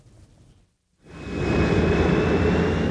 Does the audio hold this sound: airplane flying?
yes